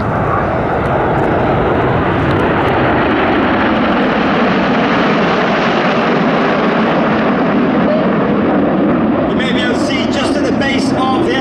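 A Big Vixen jet roars past at an air show, its loud, broadband engine noise swelling and fading as it passes, with a voice speaking over the jet.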